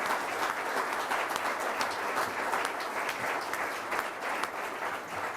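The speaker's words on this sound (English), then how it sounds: "let's have a round of applause for all of our panelists this morning." Sustained audience applause for a panel at a legislative breakfast session review, a steady dense wash of clapping filling the room at even loudness throughout, with no talk over it.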